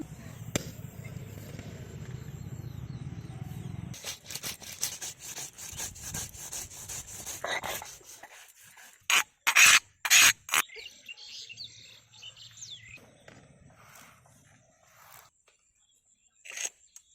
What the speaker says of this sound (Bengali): এবার আমি মশলাগুলো বেটে নেব।